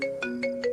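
A phone ringtone repeats in quick, steady electronic pulses, a bright melodic trill cycling several times on an unanswered call, close and clear with no voices.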